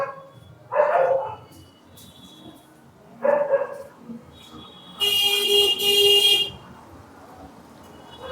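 Local street dogs in Varanasi at night near the Kaal Bhairav temple bark in short bursts at a middle distance, with a bright, sustained vehicle horn blaring near the end over faint street ambience.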